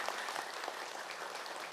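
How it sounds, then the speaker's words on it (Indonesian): Audience applause in a studio during an Islamic talk show, a steady unbroken clatter of clapping that fills the short moment at even loudness with no voices over it. "Boleh tepuk tangan dulu dong Bu sekali lagi Bu"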